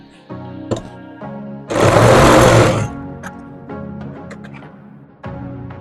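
A sewing machine joins the front and back shoulder pieces of a blouse in one loud, dense burst of about a second, set between quieter tonal sounds.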